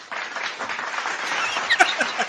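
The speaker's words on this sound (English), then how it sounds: "Give a round of applause for yourself, please." A crowd breaks into applause at a talk, a dense, steady wash of many hands clapping that holds for a couple of seconds, with a few louder individual claps standing out near the end.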